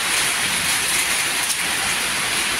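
Steady, windless rain falls in an even dense hiss, close and continuous, with no other sounds.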